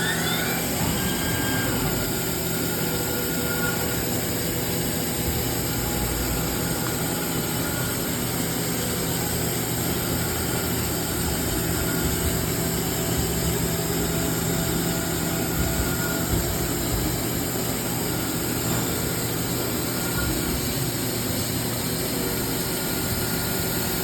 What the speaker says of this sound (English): This is the Toyota Stealth warm-up program that we have.